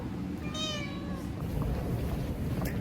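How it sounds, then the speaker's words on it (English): A house cat gives one clear, drawn-out meow near the microphone over a quiet indoor background, with no one talking. "My cat says hello."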